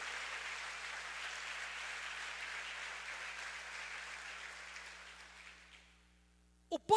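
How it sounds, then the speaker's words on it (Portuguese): A church congregation applauds together, steady dense clapping that holds for several seconds and then fades out, followed by a couple of brief louder sounds at the very end. "Você pode aplaudir ao Senhor?"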